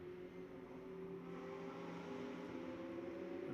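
A Mercedes-AMG GT3 race car at Hockenheim rounds a curve, its engine a sustained droning note heard faintly from a distance with a slight pitch shift, no voices present.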